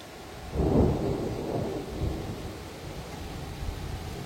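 A thunderstorm over Grenoble in the early morning, with a deep, rolling clap of thunder that swells and then slowly fades into a lingering rumble over a steady wash of rain.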